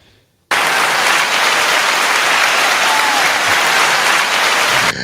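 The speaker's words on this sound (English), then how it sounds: "you just got the clapping. We're just clapping." A canned burst of applause, a dense crowd clapping that cuts in abruptly at full loudness, holds steady for several seconds, then stops sharply.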